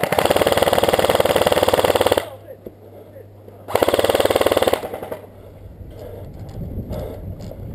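Airsoft guns fire rapid bursts during an outdoor airsoft game, a long dense volley followed by a second shorter burst, loud and close to the microphone with wind noise and faint voices between.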